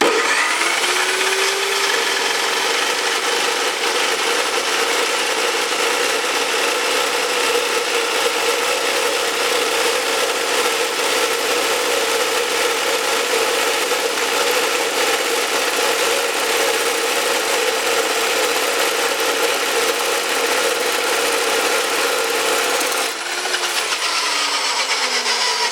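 A Jepson 14-inch dry cut saw slicing through 3-inch aluminum round stock, a loud, steady grinding whine with a sustained tone held for the whole cut, winding down near the end.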